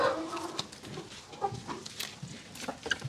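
Chickens on a farm clucking near and far in short, irregular bursts over soft background noise, a few sharper calls standing out and no talking.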